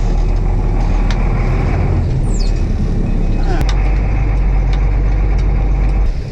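A truck engine idles in a steady low rumble throughout, with a brief squeal and a short metallic clank partway through and the low drone continuing to the end.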